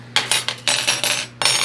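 Metal spoons clink and rattle against each other as they are handled during cleaning, a quick series of bright, close jingling bursts with short pauses between them and no voices.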